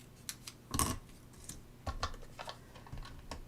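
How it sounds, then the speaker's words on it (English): Scissors snip through paper for a pumpkin-themed paper craft kit, a few faint, close, irregular clicks and crisp cuts spread across a few seconds. "Let's cut it maybe right here."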